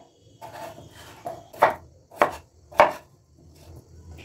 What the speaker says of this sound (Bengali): একইভাবে এই আলুটাও কেটে নেব।